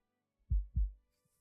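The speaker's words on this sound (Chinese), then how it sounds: "靠这么近，我都能听到他的心跳了" A double-thump heartbeat sound effect in a Chinese drama scene plays as two deep, close, heavy beats in quick succession, alone over near silence.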